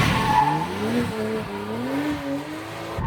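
A stock BMW Z4 drifts sideways in second gear, its tires squealing in rising and falling tones over a droning engine, loud and close from inside the car.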